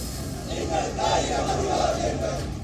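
A large crowd at a protest procession over the Israel–Hamas war fills the air with loud, overlapping shouting and chanting voices that swell and ebb in waves, dense and close throughout.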